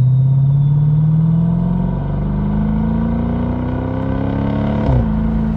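A Mercedes SLK 55 AMG engine runs close by in a deep, loud rumble, its pitch climbing steadily as it revs, then dropping sharply near the end.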